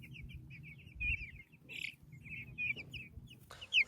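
Young Cornish Cross meat chicks, raised indoors under a heat lamp, cheep and cluck in a steady run of soft, high chirps at close range, with a sharper call at the end.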